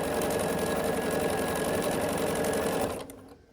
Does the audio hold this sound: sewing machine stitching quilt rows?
yes